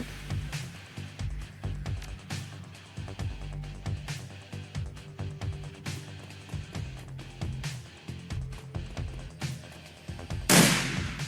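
Gunfire in the video game Shadowrun Returns: repeated sharp shots in irregular bursts over a low thumping music bed, ending with a louder burst near the close, no talk.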